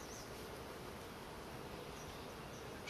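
Honey bees at a hive buzz in a steady, dense drone during a post-installation package inspection, a continuous hum with no voices.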